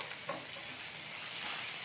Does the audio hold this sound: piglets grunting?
no